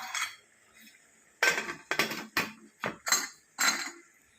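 Metal lid set onto a cooking pot of sambar, heard as a string of close, sharp clinks and clatters in quick succession, with a short pause before they begin.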